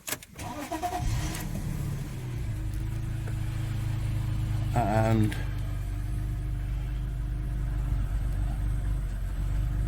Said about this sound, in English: And now we're gonna start the car again.